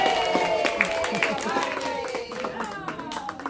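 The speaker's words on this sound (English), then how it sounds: "Let's give her a giant round of applause" Guests at a going-away party give a warm round of applause, with steady clapping from a room of people and voices cheering and talking underneath.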